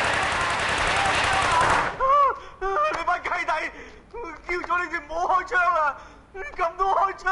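A long, dense burst of rapid gunfire rings out in a gangster bank-robbery film scene, then gives way to loud shouting voices.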